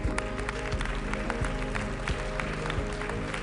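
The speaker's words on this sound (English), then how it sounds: "Please give a round of applause for Mr. Joseph Sikela, European Commissioner for International Partnerships." An audience at a health summit panel in Lyon applauds steadily, clapping heard over a sustained tonal drone of background music, moderately loud and continuous.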